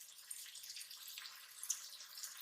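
Water poured into a cooking pot over sautéed masala for a green chickpea (choliya) pulao, a soft steady splashing and trickling hiss with no talk, fairly quiet and close.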